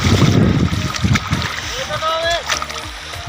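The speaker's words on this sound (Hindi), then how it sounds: "मैं जनाब पानी में से गुजर रहा हूँ" Fast, very cold water of the Jhelum River rushes and splashes as a man wades through it over stones; the loud churning flow runs throughout, and someone speaks over it.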